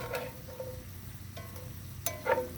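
Green peppers from the garden and meat cooking on a grill are stirred, giving a soft, faint scrape and sizzle with a couple of brief utensil clinks.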